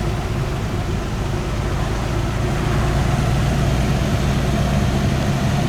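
Mercedes-Benz W211 E55 AMG passing amid cruising Mercedes cars, a steady, loud low engine rumble that holds throughout and swells slightly toward the end, with no voices.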